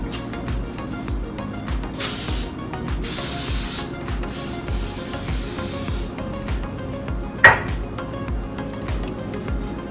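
Several hissing bursts of aerosol cooking spray onto a pan, a few seconds each, over a steady low background hum, followed by a single sharp clack.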